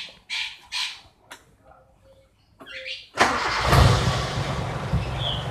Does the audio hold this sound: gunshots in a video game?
no